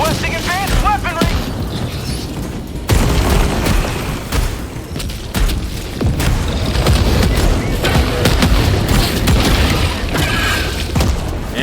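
Mech suit in the video game Helldivers 2 firing its guns and rockets: loud, dense barrage of booms, rapid gunfire and thuds filling nearly the whole stretch, with a voice briefly audible near the start.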